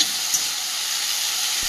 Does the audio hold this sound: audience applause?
no